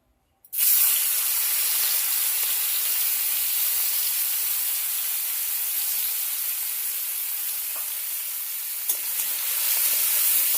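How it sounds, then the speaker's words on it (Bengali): Shrimp coated in turmeric and salt drop into a little hot oil in a pan, bursting into a loud steady sizzle that starts abruptly and holds as an even hiss, with a small spatter near the end. "তেলটা গরম হয়ে গেছে এবার হলুদ লবণ মাখানো চিংড়ি মাছটা ভেজে নেব"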